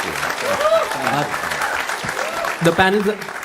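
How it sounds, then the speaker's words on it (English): An audience at a business conference fireside chat breaks into applause to welcome the guests, a steady clapping wash that runs alongside a speaker's voice and a few other voices. "So please give them a round of applause."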